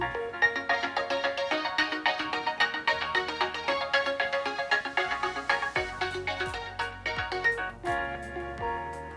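Custom ringtone music generated on an OPPO Find X2 Pro running ColorOS 11 plays on its own: bright, bouncy electronic melody with plucky repeated notes and a shifting bass line, clear and close.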